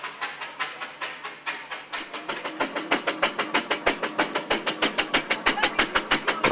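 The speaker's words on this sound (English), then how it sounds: "And there's Betsy, finally in steam, being driven out carefully up the about a 1 in 8 slope from his back garden." Fred Dibnah's steam traction engine Betsy chuffs steadily as it is driven up a steep slope out of a back garden, its rhythmic exhaust beats loud and close and gradually quickening.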